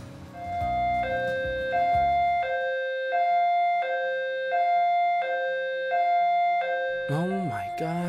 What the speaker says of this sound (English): Why are the sirens going off?